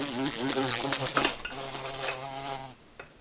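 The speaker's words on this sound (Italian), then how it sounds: "Questo apone con le ali violacee è un'ape legnaiola" A large carpenter bee with violet wings buzzes loudly and close in an alpine beekeeping setting, a steady droning hum that wavers in pitch, then fades off near the end.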